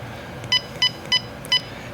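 A battery monitor alarm on a 150-amp battery gives four short, evenly spaced electronic beeps over a steady low background hum.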